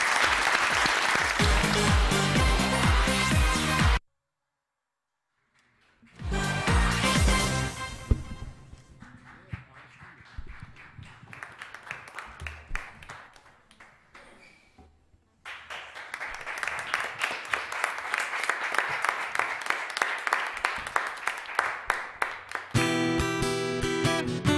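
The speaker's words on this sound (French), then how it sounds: "on applaudit très très fort Auréa" Audience clapping at a French televised talent show, coming in bursts separated by a silent gap and a musical passage, fairly loud and then rhythmic toward the end, with no talk over it.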